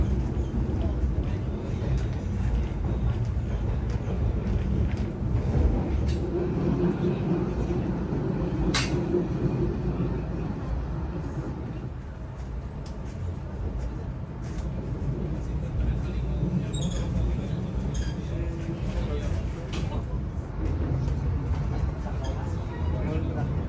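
Argo Wilis panoramic passenger train climbing through West Java mountains, a steady low rumble of wheels and carriage noise continuing throughout with a brief sharp squeal, voices talking over it.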